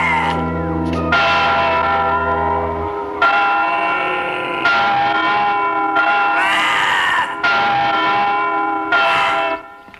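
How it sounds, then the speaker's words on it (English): The bell of Notre Dame cathedral rings in loud, resonant, evenly spaced strokes, each ringing on and overlapping the next, heard alone without talk. "I wonder why the cathedral bell would be ringing at such an odd hour."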